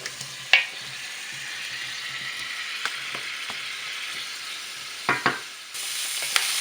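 Sausages with boucané (smoked pork) sizzle in a pan as the last of the water cooks off, a steady close frying hiss broken by a few sharp pops and spatters, with no voices.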